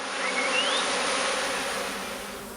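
Honey bees hum loudly and densely at close range as a colony moves into a new hive, a continuous swarm drone with no voices.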